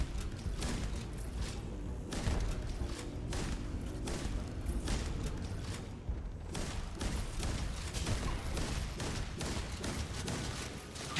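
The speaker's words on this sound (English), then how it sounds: "While I'm being sniped at." Sniper gunfire in the Starfield: Shattered Space game, a rapid, sustained barrage of loud shots and booming impacts with dense, repeated bursts across the whole stretch, no voices.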